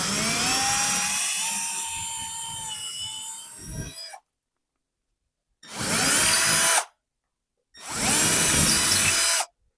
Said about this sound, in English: Make sure your drill is going in straight into the wall.